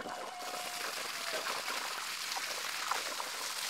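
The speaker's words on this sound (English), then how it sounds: "as it's draining right down in my creek bed" Water from a farm pond sand filter set to waste drains out into a creek bed outdoors, a steady broadband trickling and splashing rush that runs unbroken and fairly close throughout.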